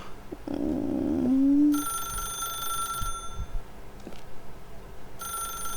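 A telephone rings in the video game The Stanley Parable 2, two sustained bell-like rings separated by a pause, loud and clear over a soft background after a brief low musical swell.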